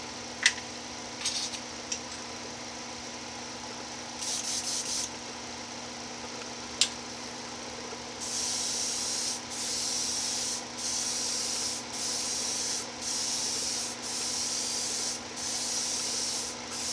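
Short bursts of spray paint hissing onto an AMT Dodge Coronet model kit body, with several near, steady blasts in a row separated by brief pauses, preceded by faint ticks and rubbing.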